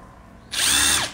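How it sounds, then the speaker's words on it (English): A power drill spins up abruptly into a loud, high whine as it bores a hole, holding for about half a second before winding down. "So I'm gonna drill four holes."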